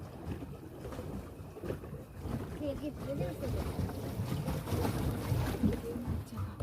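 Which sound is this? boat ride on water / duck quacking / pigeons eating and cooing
boat ride on water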